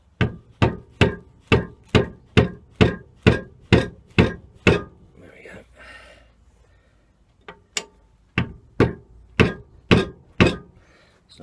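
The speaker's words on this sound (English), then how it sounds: "we're just going to give this a couple of taps clockwise just to snug it up, tighten it up a little bit." A rubber mallet strikes a copper rod against a locking ring on a Record CL4 lathe, giving two runs of sharp, evenly spaced, close knocks, about a dozen in the first run and eight in the second, separated by a brief pause with quiet handling noise.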